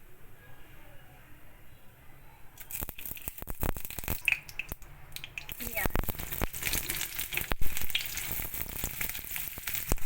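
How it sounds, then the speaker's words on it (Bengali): A garlic-studded eggplant roasting over an open fire, heard as a steady close crackle and sizzle that swells after a quieter start, with faint voices underneath. "বেগুনটা পুড়িয়ে নিচ্ছি।"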